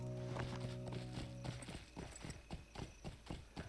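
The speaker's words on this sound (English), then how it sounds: "my goat's actually a lot more noisy than the boar, which is hilarious with his walking" Hooves of a goat mount walk at a steady clip-clop rhythm through Rivendell in Lord of the Rings Online, close and fairly loud over a constant background hum, with no talk.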